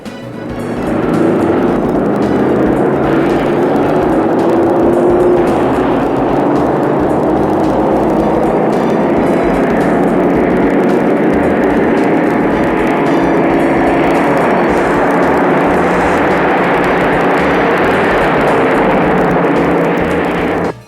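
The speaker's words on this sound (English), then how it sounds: "Let's see that new 230 cubic inch 6 in action against the Ford and Plymouth 6s." Chevrolet's new 230 cubic inch six-cylinder engine racing against Ford and Plymouth sixes in a 1962–63 comparison run: a steady, loud engine drone that holds for about twenty seconds with no talk over it.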